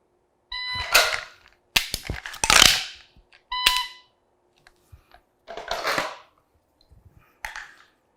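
Pistol dry-fire practice of draws, reloads and trigger clicks: a series of sharp metallic clicks, clacks and rattles in separate bursts, close and fairly loud, with an electronic timer beep at the start.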